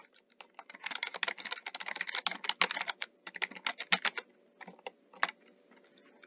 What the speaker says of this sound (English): Then type in your comment.